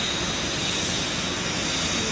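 Boeing 747 jet engines in the Roblox video game give a steady, even roar that fills the whole stretch, with no talking over it.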